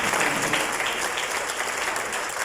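A room full of guests at a corporate awards ceremony breaks into strong applause, a thick, continuous wash of clapping that stays level throughout the short stretch with no voices rising above it.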